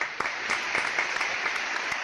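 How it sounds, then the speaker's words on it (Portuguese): Applause for a caller in a radio studio, a short burst of clapping with a steady wash of hand claps and a few sharper individual claps. "Uma salva de palmas para o Conrado."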